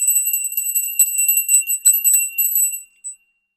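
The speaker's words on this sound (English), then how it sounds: "Forgot to ring my other bell." A small hand bell rings with bright, high, sustained tones, struck repeatedly over a few seconds before it fades and stops, heard alone without speech.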